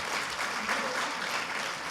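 A brief, soft wash of audience applause at a youth dialogue event, many hands clapping in a dense, diffuse blur that sounds somewhat distant and holds evenly throughout.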